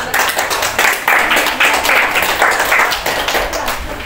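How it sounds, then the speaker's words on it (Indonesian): A class gives applause to a student group in a school lesson, with many hands clapping loudly and close by in rough, pulsing bursts for a few seconds. "kita beri aplaus untuk kelompok"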